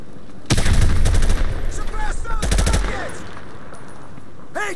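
Gunfire in Call of Duty Modern Warfare Remastered: two loud bursts of automatic fire, the first longer and the second shorter, close and heavy, with chirping birds and a faint shot at the very end.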